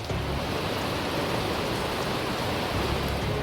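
Heavy monsoon rain pours down in Dang, Gujarat, a dense, steady hiss of downpour that stays loud and unbroken throughout, with no voices.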